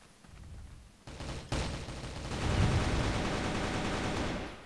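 Gunfire in the online shooter Crossfire, in Rival Factions mode: a quiet start gives way to bursts of rapid automatic fire that swell into a dense, sustained barrage.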